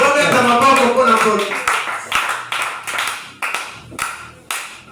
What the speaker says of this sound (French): Acclamons-les.